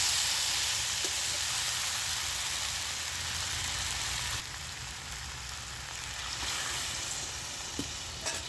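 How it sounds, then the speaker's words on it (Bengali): Water poured into a pan of sautéed ash gourd and potato for a vegetarian Bengali curry, giving a loud, continuous close sizzle and hiss that eases slightly midway, with occasional utensil clinks. "এবার আমি একটু জল দিয়ে দিচ্ছি"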